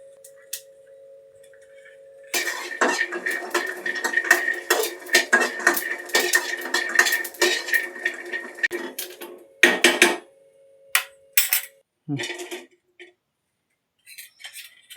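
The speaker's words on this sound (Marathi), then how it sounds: "मी लसूण भाजून घेते." Garlic dry-roasting in a pan without oil for Maharashtrian garlic chutney, a dense rattling clatter of cloves tossed against metal with a steady hum, then scattered clinks and scrapes.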